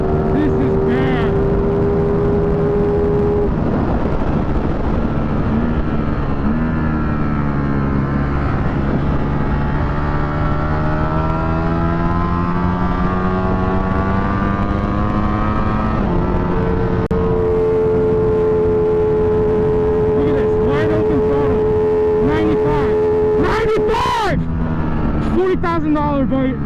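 A 2023 Ducati V4 SP2 motorcycle engine revs loud and close on a race track. The engine note climbs and falls steadily through the gears, with a rider talking over it at times.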